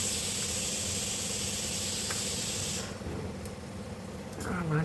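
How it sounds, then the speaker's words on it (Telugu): Tempering seeds hit hot oil in a pan for a Telugu sorakaya roti pachadi and sizzle with a loud, steady hiss. The hiss eases partway through, and faint crackles and pops continue close by. "ఆయిల్ వేడెక్కిన తర్వాత ముందుగా పోపు గింజలు వేయాలండి"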